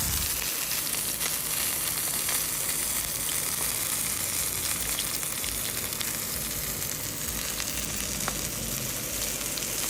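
Pork sirloin roast sizzles steadily as its fat melts, a dense, continuous crackle and spatter close by with no voices over it.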